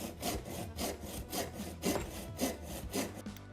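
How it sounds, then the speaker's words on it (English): Restored Disston hand saw, set with a Triumph No. 28 saw set, cutting through wood in steady, rhythmic push-pull strokes, about two per second, close and clear with no talk. "it's time to take this saw out for a test drive, and it's feeling pretty good. It's clearing out the sawdust"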